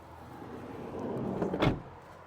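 Trunk of a Nissan e-NV200 electric van being opened, a soft mechanical rustle building to a brief latch clunk and thud near the end, close and fairly quiet.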